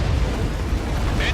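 A loud, rumbling blast rolls out as an enemy aircraft is destroyed in the aerial combat game Ace Combat 7, a brief dense roar filling the moment.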